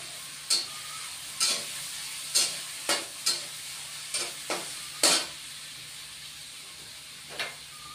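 Onions frying in a pan with spices, a steady faint sizzle broken by about nine short scraping stir strokes spread irregularly over the span, no talk.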